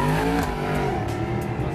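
A powerful car accelerates on a small race track, its engine a loud, continuous rasping drone with shifting harmonics that run briefly and steadily, with no voices.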